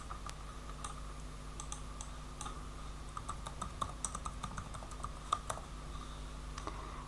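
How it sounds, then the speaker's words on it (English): Typing on a Lenovo Flex 5 Chromebook keyboard, close light key clicks in irregular bursts and short runs, with quiet pauses between clusters. "Erase the current name and then type the new one."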